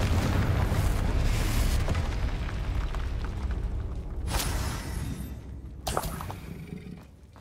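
A Confringo blasting spell goes off in a video game: a loud, rumbling explosion fills the opening seconds and then slowly decays, followed by a couple of sharper bursts near the end.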